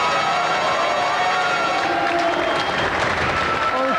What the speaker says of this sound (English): Round of applause for Mark.